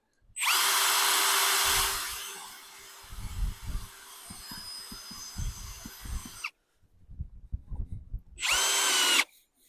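A Vitals PAU 1870 BS cordless drill driver drives a thick 10 mm screw into ash wood, three loud whirring bursts, the middle one long and labouring, with knocking and handling thumps between them.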